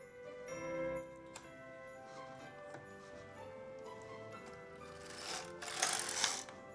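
An LK-150 knitting machine carriage is pushed across to unknit a row, giving quiet mechanical clicking and rattling with a louder sliding swish near the end.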